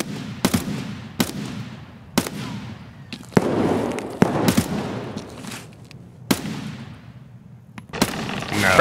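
Frag grenade explosions and gunfire in a forest-area shooter video game, heard as a string of sharp loud blasts roughly a second apart, each with a decaying rumble, with a denser burst near the end.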